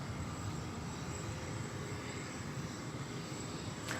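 Steady broadband engine roar of a passing airliner at DFW Airport, continuous and moderately loud throughout, with no voices.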